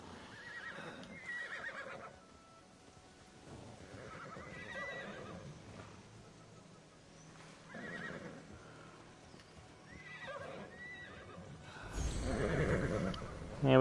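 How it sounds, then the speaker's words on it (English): In the video game Immortals Fenyx Rising, a horse gives several clear neighs and whinnies with snorts between them, then a louder burst of hoofbeats near the end. "See if we can get a horse."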